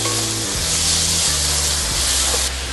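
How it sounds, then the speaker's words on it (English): Bean sprouts stir-frying over high heat in a very hot pan, a loud, dense, steady hiss and sizzle that fills the whole stretch, with a low hum of the burner underneath. "The bean sprout has a lot of moisture, and I really want to stir fry it"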